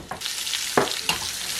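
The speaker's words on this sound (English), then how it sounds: "I have about a tablespoon of vegetable oil in the pan. The pan's hot, vegetables go in." Vegetables hit about a tablespoon of hot vegetable oil in a pan for homemade chow mein, giving a steady broadband sizzle with a few sharper crackling bursts, close and fairly loud, no voices.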